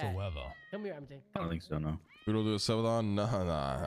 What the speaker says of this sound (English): Yo, look at this cat next to me.